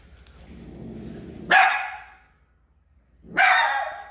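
A dog barks in two loud, close bursts a couple of seconds apart, with quieter background noise before the first bark.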